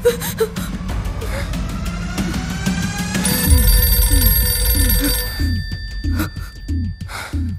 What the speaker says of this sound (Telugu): ఆ ఫోన్ ఎత్తుకు ప్లీజ్